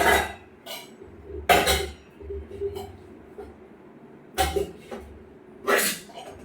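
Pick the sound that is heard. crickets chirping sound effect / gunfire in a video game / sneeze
sneeze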